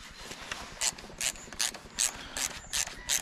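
Bolts of 8mm being wound by hand into a Honda BF2.3D outboard engine, with a ratchet clicking in regular quick bursts about twice a second, close and clear with no talking.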